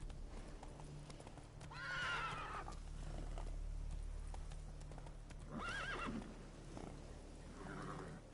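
A horse moving at speed in The Witcher 3 video game, with steady rhythmic hoofbeats throughout and three loud neighs or whinnies rising over them.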